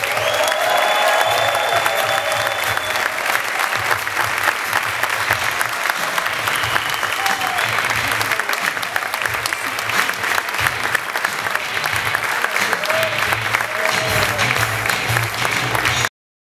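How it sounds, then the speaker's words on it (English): A large audience applauds warmly for comedian Lewis Black, a steady wash of clapping with some cheering that holds for over fifteen seconds without letting up. "Give a huge round of applause for Mr."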